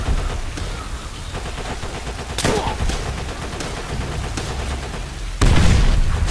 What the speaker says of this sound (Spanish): ¿De dónde ha salido ese disparo?